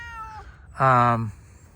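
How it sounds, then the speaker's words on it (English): A 19-year-old cat gives a single clear, fairly loud meow lasting about half a second, close by, after a brief fainter vocal sound, with low room noise around it. "These are cats the previous owners left here."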